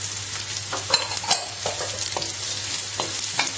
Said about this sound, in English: Very quickly I'm going to add the carrots.